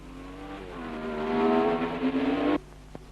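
1962 Formula 1 race car at the French Grand Prix: a single car's engine howls in rising pitch as it approaches and passes close by, then cuts off abruptly.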